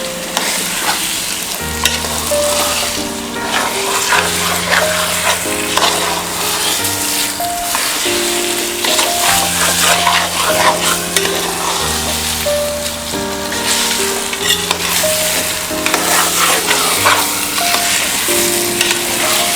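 Rice stirred with spices in a pot for meat pulao, a steady scraping and sizzling with continuous frying crackle throughout, fairly loud and close, no talk, with sustained music-like tones running underneath.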